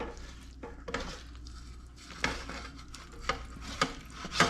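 A utensil scrapes across the bottom of a pan holding cooked potatoes, peppers, onions and garlic, giving repeated rough scraping strokes with sharper metallic clinks and light sizzling underneath, close up and without talking.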